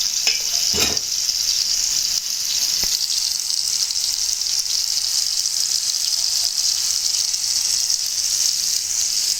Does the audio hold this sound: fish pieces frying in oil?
yes